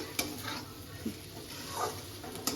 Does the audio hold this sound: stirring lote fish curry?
yes